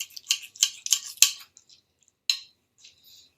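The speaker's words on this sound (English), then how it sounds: "But I'm about to cut into this." Knife cutting into a grilled tomahawk ribeye steak, several quick scraping, clinking strokes against a hard surface close up, followed by a couple of fainter scrapes and quiet gaps.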